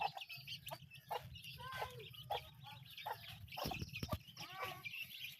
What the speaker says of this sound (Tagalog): Ayan o mga alagang manok ko sa probinsya.